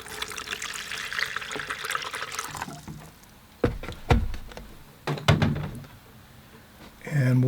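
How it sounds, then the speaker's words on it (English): Fresh clean water pours and trickles into a large collapsible container for a watercolor session, a bright steady splashing at first, then a few distinct drips and clinks as the flow stops. "Pour some water, fresh clean water."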